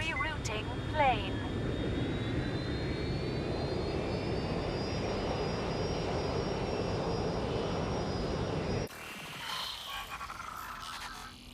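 Airplane engine in the Watch Dogs: Legion video game, a loud steady jet roar with a rising whine that holds for about nine seconds before cutting abruptly to a quieter, muffled interior hum.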